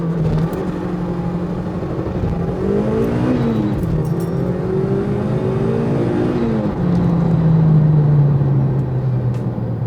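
A supercharged Mazda MX5 Miata accelerates hard from standstill to 60 mph, its engine droning loudly and climbing in pitch through the gears, with brief dips at each shift, heard from inside the car with no talking.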